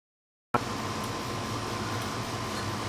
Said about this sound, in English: The background noise you hear is just my air conditioner.